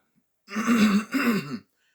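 A single hard, close cough comes in two harsh bursts, loud and isolated against silence.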